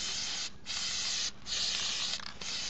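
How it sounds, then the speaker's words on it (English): Spray adhesive from an aerosol can sprayed onto burlap while making a decorative pumpkin, heard as three long, loud hissing bursts separated by brief pauses. "fold it over and just keep on spraying."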